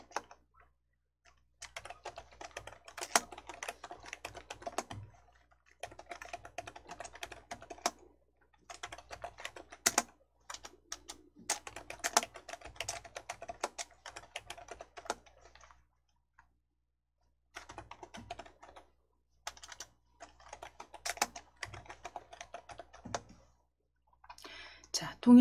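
Fast typing on a computer keyboard, close and quiet, with dense runs of light key clicks broken by short pauses and a few heavier key strikes throughout.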